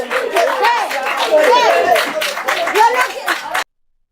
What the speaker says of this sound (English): applause again from the crowd there